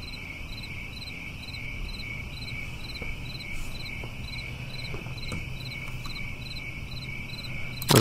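Crickets chirping in the video game American News Simulator, a steady rapid pulsing trill repeating evenly over faint background noise, with no talk.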